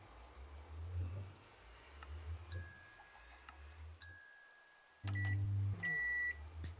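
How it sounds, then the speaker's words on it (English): Game sound effects from a Minecraft modpack (All The Mods 9 To The Sky): a short electronic beep and hum like a microwave oven finishing, with ringing tones that come and go over steady low background noise. "That random microwave sound is so dumb."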